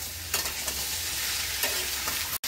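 Sweet roti curry with turmeric and sugar frying in a pan, a dense continuous sizzle with stirring scrapes, brief and close, cut by a sudden dropout just before the end.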